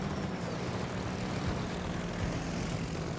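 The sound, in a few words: torpedo bomber aircraft engines in the video game World of Warships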